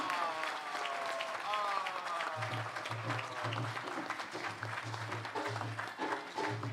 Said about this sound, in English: a round of applause for Rhoda Kadwa Wedam, together with her family